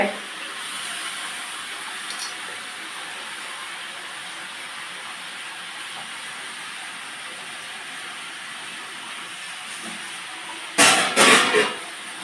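Chopped potato, eggplant, pumpkin, red amaranth greens, tomato and chilli dropped into a hot pan with shrimp, bursting into a loud hiss near the end after a long stretch of steady steamy background noise.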